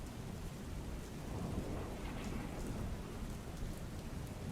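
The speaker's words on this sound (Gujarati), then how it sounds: "અમદાવાદમાં સતત બે દિવસથી ભારે વરસાદ વરસી રહ્યો છે" Heavy rain falls on Ahmedabad in a dense, constant roar, unbroken throughout.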